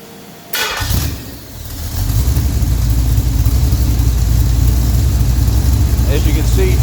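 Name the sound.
1967 Pontiac GTO 400 engine idling and revving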